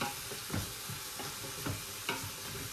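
Onions sizzle and fry steadily in a pan as the base for split pea soup. The hiss continues without a break, and a few soft stirring knocks sound every half second or so. Nobody speaks.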